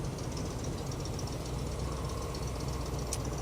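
An original 283 engine in a 1960 Corvette convertible idles on a cold day after warming up, a steady, even low rumble that continues without a break.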